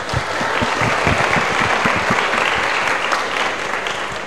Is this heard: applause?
yes